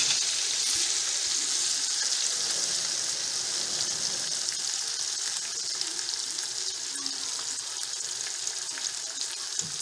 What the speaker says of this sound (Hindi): मैं थोड़ा सा पानी इसमें शामिल करूँगी।